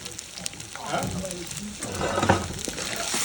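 Ginger, garlic and onions fry in a hot pan, a steady crackling sizzle with stirring scrapes swelling and easing over a few seconds, close and moderately loud, with no one speaking.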